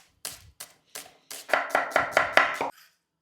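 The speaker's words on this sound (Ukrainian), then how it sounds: "Цибульку нарізаємо півкільцями." A knife chops an onion into half-rings on a cutting board: a few spaced cuts, then a quicker run of six crisp, close strokes with no talking.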